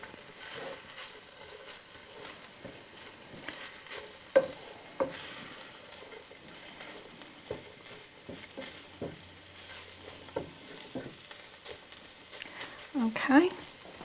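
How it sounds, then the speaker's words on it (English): Hamburger meat and onion cooking in a pan, with soft frying crackle and intermittent scraping stirs, close but quiet, beneath a person talking. "I'm going to cook this for about 30 seconds in with my hamburger meat and onion."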